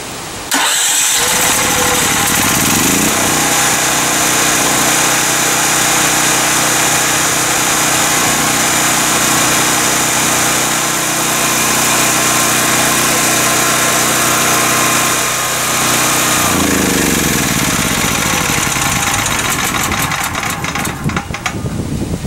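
A home standby generator cranks and starts after a power loss, with an automatic transfer switch, then settles into a loud, steady running drone close by, with no talk.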